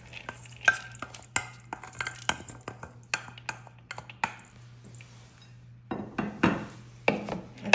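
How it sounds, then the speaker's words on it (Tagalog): A utensil stirs onion and burger meat in a pan, giving a run of close, sharp scrapes and taps with a short pause before a busier burst. "At i-mix ko na siya."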